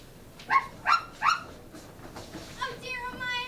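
Toto the dog barking in a stage play of Dorothy in Wonderland, three quick yaps in a row followed by a softer yelp, then a voice begins talking.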